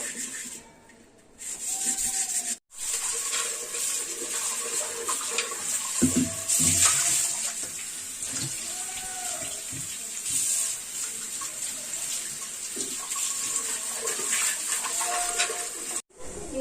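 Water splashes and runs as a new clay pot is washed and rubbed by hand, a close, continuous wet scrubbing with short breaks and shifting intensity.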